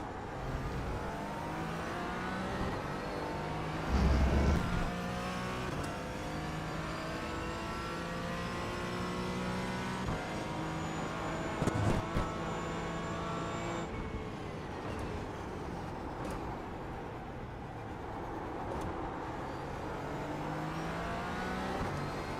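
Race cars in the iRacing simulator at Daytona, a loud engine howl through shifting gears and revs, with other cars roaring past while overtaking.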